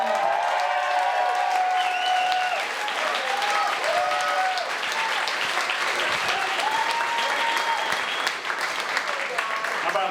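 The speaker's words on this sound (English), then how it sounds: "Let's give a big round of applause." Loud, sustained applause from a comedy club audience fills the room for about ten seconds, with scattered cheers and whoops rising over the steady clapping as a Fox 59 guest is welcomed to the stage.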